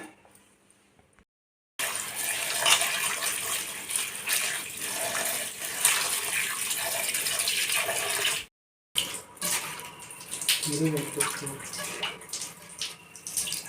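Running water splashes continuously into a vessel as chopped greens are rinsed, a steady gushing wash with a short pause partway through and some clattering, no talking.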